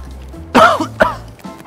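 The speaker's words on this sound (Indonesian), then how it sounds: "Saya minta batuk 3 kali Pak." A man coughs on request, two sharp close coughs about half a second apart followed by a faint throat rasp, loud against a quiet background.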